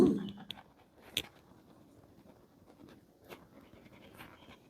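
Pen or pencil writing answers on a paper math worksheet, soft close scratching strokes with a few sharper taps, faint and intermittent.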